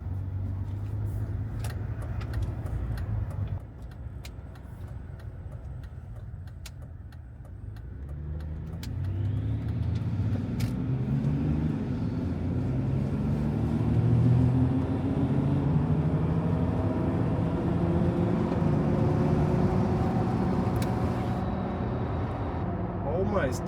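Range Rover L322 TD6 diesel with a swapped 8HP automatic gearbox driving on the road, the engine rising and falling in pitch through quick gear changes while someone talks over it.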